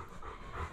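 A dog pants rapidly and close by in a short, breathy burst, with no voices over it.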